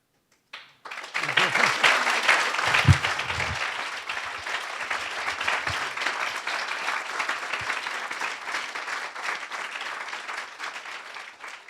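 Audience applause breaks out at the end of a lecture on conscious and mindless eating, rising quickly to a dense, steady clatter of many hands that holds evenly for about ten seconds without voices on top.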